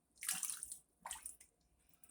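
Tap water gushing into a big red bucket over pork chitterlings being rinsed, two short splashing bursts of running water, close and fairly faint, with a brief pause between them.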